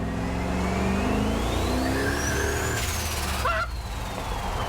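A Ford F100 drift truck's engine revving on a wet road, a steady loud roar with rising and falling pitch sweeps and a brief hiss, no talking.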